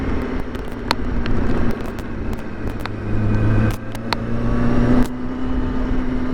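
Motorcycle engine droning steadily during a ride through downtown Charlotte, with a brief falter and shift in pitch around a missed gear change, plus faint clicks and road noise throughout.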